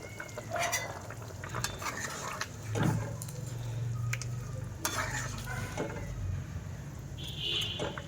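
Fried fish pieces go into a simmering curry in a pan and get stirred, giving soft sizzling with scattered scrapes and clinks of a utensil against the pan, steady at close range with no talk.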